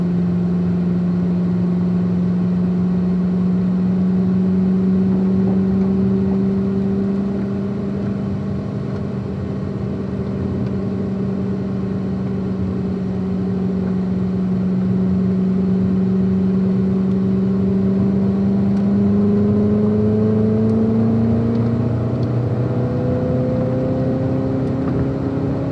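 A 2019 Chevrolet Corvette ZR1 accelerating on the Spring Mountain race track, its engine note climbing steadily through the gears in long rising sweeps, loud and close, with no talk over it.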